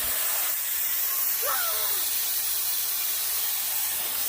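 A giraffe-shaped foil balloon for a zoo safari party is inflated with a continuous, loud, even rush of hissing air that never pauses.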